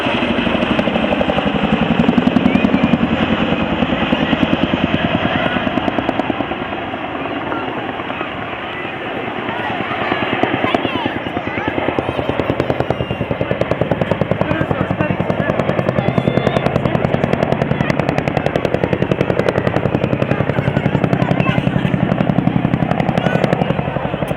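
A Chinook helicopter's heavy rotor thumps and engine roar fill the air continuously during an air display, loud and close, while a voice talks over it.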